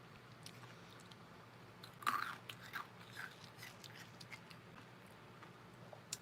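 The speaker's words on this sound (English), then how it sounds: "Sorry, I'm not trying to be gross and chew." Someone chews a crunchy snack close to the mic, giving a few distinct crisp crunches and bites over faint, quiet background noise with no talking.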